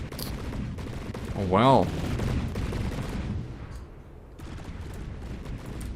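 Cannons firing in the naval battle game From the Depths, a dense run of rapid booming shots under a brief spoken comment, with the barrage thinning to scattered distant blasts.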